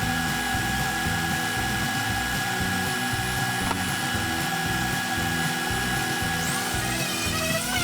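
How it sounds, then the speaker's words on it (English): A power tool whines steadily while cutting walnut splines and sanding them flush on a wooden box shelf, a loud continuous drone with no voices. "here I'm just cutting all the splines out of walnut and then sanding them flush"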